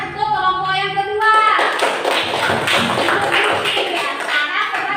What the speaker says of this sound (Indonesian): Jadi kita kasih tepuk tangan untuk kelompok yang kedua.